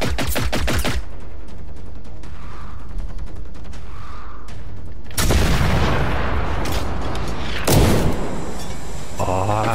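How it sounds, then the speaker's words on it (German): Gunfire from an enemy rifle in the video game Generation Zero, bursts of loud, sharp shots sounding mid-clip and again near the end, over quieter game ambience with a voice talking. "Was hat der denn da jetzt für ein Gewehr ausgepackt"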